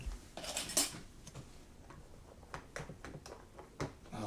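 A utensil scrapes and clinks against a bowl while slime is stirred and mixed, giving short, irregular taps and scratchy strokes, close and fairly quiet.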